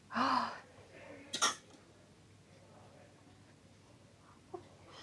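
A young boy with a persistent cough in a GP surgery coughs a couple of times in quick, harsh bursts near the start, then a faint rustle in a quiet room.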